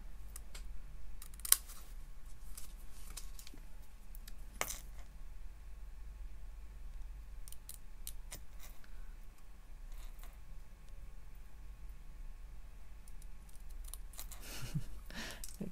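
Scissors cut out a small paper penguin piece, producing faint, scattered snips and clicks against quiet room hiss, with a brief louder knock early on and a busier rustle near the end.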